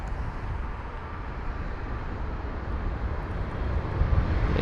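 A JetBlue Airbus A321 departing toward JFK gives off a steady, broad jet roar that swells slightly toward the end, heard at a distance across an airport with no talking.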